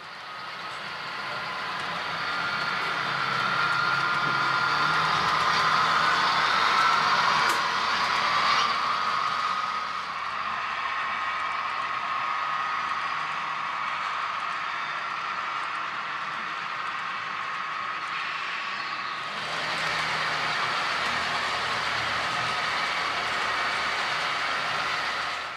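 An HO scale model train, hotshot 226, rolls past on a DCC layout, a continuous mechanical whir and rumble that swells as it nears, holds steady, then shifts in tone as it moves along the track.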